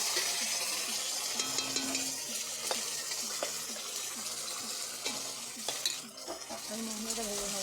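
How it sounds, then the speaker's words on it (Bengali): Spice paste frying in a pan, a continuous sizzle with repeated scraping clicks from stirring, moderately loud and close, with a short lull near the end. "মশলাটা ভেজে নেবো।"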